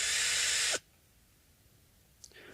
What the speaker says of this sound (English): now I can use the power tool to quickly remove them